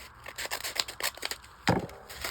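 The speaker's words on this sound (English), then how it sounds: "Let's grab some scissors." Scissors snip and slice through a paper envelope while a papercraft subscription box is unboxed, a series of short crisp cuts and rustles ending in one louder tearing scrape near the end, close up with no talking.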